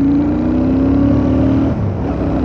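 A Royal Enfield Super Meteor 650 motorcycle cruising at about 70, its steady engine drone loud and close, with a slight dip in pitch near the end and no talking.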